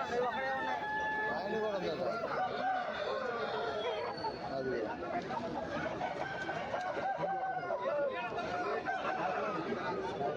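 An aseel rooster crows amid other chickens clucking at a busy Sunday market, with crowd chatter and people talking all around.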